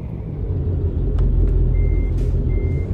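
A truck in American Truck Simulator backs into a parking spot, its steady high reversing beeps sounding over a loud, continuous low engine rumble.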